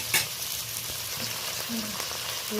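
Crab pieces fry in hot oil with salt and turmeric, a steady broadband sizzle with a brief sharp crackle near the start and a few soft scrapes of stirring, no voices.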